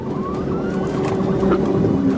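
A police car siren wails faintly during a nighttime pursuit, a thin rising tone over a steady engine and road rumble that fills the whole stretch.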